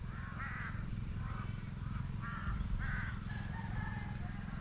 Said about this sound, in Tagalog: May mga uwak na naman yan. Nagpupunta sa kulungan ng baboy.